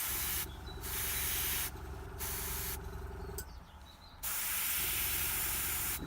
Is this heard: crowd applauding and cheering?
no